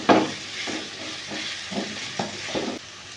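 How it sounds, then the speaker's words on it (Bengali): Chopped onions with a little salt fry in a pan, giving a steady sizzle with several soft stirring scrapes repeating about every half second, close and fairly loud, no talk. "এবার আমি এর মধ্যে প্রথমে পেঁয়াজ কুচিগুলো দিয়ে দিচ্ছি।"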